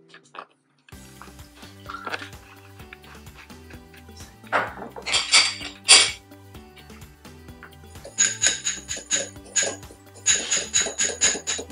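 A vinaigrette of salt and white vinegar is mixed by hand, with metal utensils clinking and scraping against a bowl in uneven bursts that grow busier toward the end, alongside a quiet steady tone.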